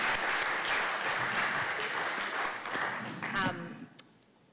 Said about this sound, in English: Maybe a round of applause for all of our presenters.